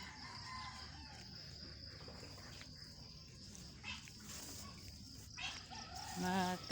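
Chickens cluck and a rooster crows nearby, with farmyard bird calls and insects under a faint murmur of voices.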